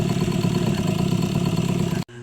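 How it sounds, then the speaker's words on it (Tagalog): An engine runs with an odd, uneven rhythmic clatter and steady loud hum, then cuts abruptly near the end to a quieter drone. "Kung inyong napansin, lain og tingog ang makina"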